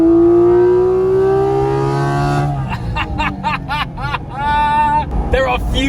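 Cabin sound of a Porsche 992 GT3 under full throttle, a loud rising engine howl that climbs steadily, then breaks into sharp gear changes and renewed revving with wailing harmonics.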